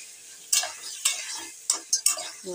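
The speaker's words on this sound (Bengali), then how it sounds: "ভালো করে কষিয়ে নেবো।" Vegetables being stirred and sautéed in a pan for a village-style vegetarian kundru (ivy gourd) dorma, with several sharp scraping stirs over a steady low sizzle, no talking.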